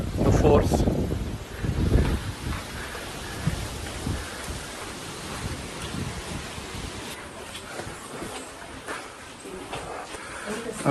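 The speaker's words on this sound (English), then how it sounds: "Just look at the wind, the force." Strong wind buffets the microphone on Devarayana Durga hill station near Bengaluru, a broad steady roar with heavy low gusts, loudest in the first two seconds and continuing throughout.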